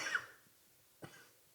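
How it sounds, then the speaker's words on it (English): A man coughs twice during a relaxed motorsport talk show: a sharp, close cough, then a pause of almost a second and a second shorter, fainter one, with quiet room tone between them. "I'm not done coughing."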